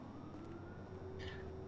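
Emergency vehicle sirens in the video game GTA 5 sound as a faint, distant, steady wail over a low background rumble, with no talking.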